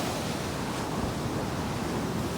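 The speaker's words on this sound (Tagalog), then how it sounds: "Grabe yung alon." Heavy surf pounds a beach in a continuous, dense roar of breaking waves, close and unbroken, with no voices over it.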